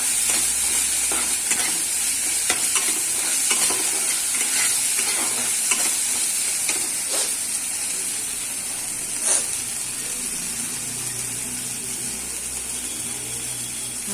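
Tomatoes with ginger, cumin, coriander leaves, garlic, salt, turmeric and chilli powder sizzle and hiss steadily in a home kitchen pan, broken by scraping stirs of the spoon, with no talk.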